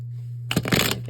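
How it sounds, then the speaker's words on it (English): A short, quick riffle of tarot cards being shuffled close up, a brief burst of flapping clicks after a moment of quiet hum. "A good shuffle here."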